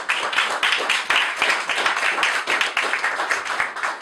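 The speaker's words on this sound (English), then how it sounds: "Give him a round of applause." Audience applause at a Hunter College debate event on Malcolm X: a dense, steady burst of many hands clapping that holds for about four seconds, with no one speaking over it.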